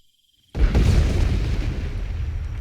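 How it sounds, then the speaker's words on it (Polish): A sudden deep boom bursts out of silence in Rambo The Video Game, followed by a heavy rumbling roar that slowly decays. "Ten epicki wybuch, słuchajcie."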